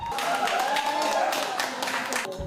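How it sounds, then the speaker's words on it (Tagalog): Fans at a tennis match watch party cheer and clap steadily throughout, a dense wash of applause and shouting voices filling the space without pause. "Walang tigil sa hiyawan at palakpakan ang fans"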